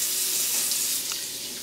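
Shower water runs steadily in a home bathroom, an even hissing spray heard up close with no voices.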